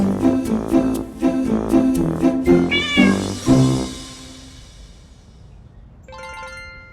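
A domestic cat meows repeatedly, around six to eight short, clear calls in quick succession, close and fairly loud, followed by a quieter pause and then a brief electronic chime.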